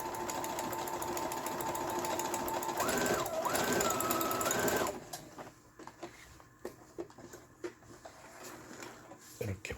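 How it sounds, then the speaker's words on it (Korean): A Brother FS20 household sewing machine runs an overlock stitch, with a steady loud mechanical whir and rhythmic needle clatter for about five seconds, then it stops, leaving faint clicks and handling noises. "14번 하던 오버록 스티치죠. 이거 계속해서 해봅니다."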